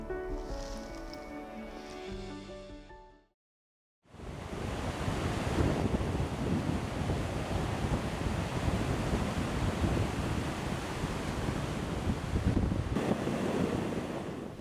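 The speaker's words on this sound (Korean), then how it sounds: "파도는 바닷속을 뒤집기도 하고 백사장으로 떠밀어서" Ocean waves wash continuously onto a sandy beach on a coast littered with marine debris, a steady loud surf roar with wind noise, preceded by a few seconds of music that cuts to silence.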